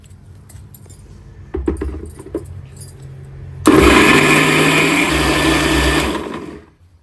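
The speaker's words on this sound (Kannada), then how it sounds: "ಮುಚ್ಚಿಬಿಟ್ಟು ಇನ್ನೊಂದು ಸತಿ ಮಿಕ್ಸಿ ಮಾಡ್ಕೊಳ್ತೀನಿ" A mixer grinder whirs through spice paste for brinjal curry, a few short pulses and clatters first, then a loud sustained grinding run of about two and a half seconds that cuts off abruptly.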